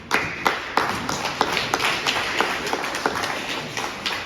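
Applause for teachers from a small gathering, distinct separate claps with a loose irregular rhythm, fairly close and moderately loud, with no talking.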